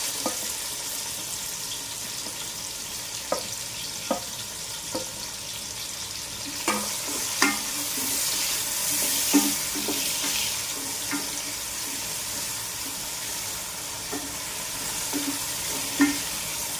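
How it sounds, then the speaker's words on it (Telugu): Onions frying in hot oil for chicken biryani give a steady broadband sizzle throughout, with occasional soft clicks and stirring knocks rising above it, close and continuous with no talking. "ఆయిల్ వేడైపోయిందండి. ఇప్పుడు మనం ఆనియన్స్ యాడ్ చేద్దాం."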